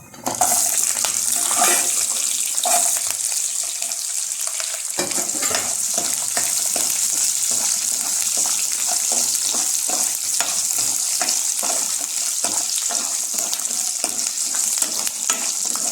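Coconut, garlic and small shallots sauté in a pan over a medium flame, giving a loud, steady sizzle that runs throughout, with frequent spatula clicks and scrapes and no talking.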